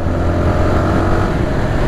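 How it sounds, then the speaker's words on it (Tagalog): A Honda Supra GTR 150 sports underbone motorcycle engine revs in a loud, steady, close-up drone that holds throughout. "Rinig nyo? Sarap na pakinggan, no? Ganda ng tunog, solid ng makina."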